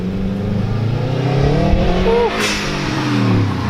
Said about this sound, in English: I hear a Subi rumble somewhere